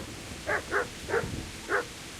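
Four short barks from dogs in the medieval game Kingdom Come: Deliverance, spaced irregularly and moderately close over a quiet ambient background.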